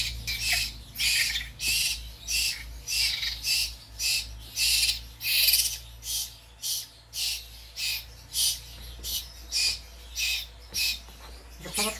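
A pet bird squawks at feeding time, loud and close, in a steady series of about a dozen harsh calls spaced roughly a second apart over a low background hum.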